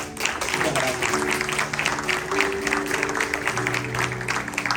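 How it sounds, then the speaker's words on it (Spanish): A church congregation breaks into steady applause, dense and fairly loud clapping filling the whole stretch, with voices faintly audible beneath it. "Vamos a dar un fuerte aplauso para ellos."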